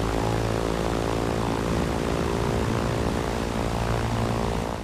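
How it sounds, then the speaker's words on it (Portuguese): Airplane engine in the game Far Cry 4: a loud, steady propeller drone that roars continuously and close throughout, with no speech. "Por mais que o motor do avião seja alto pra cacete"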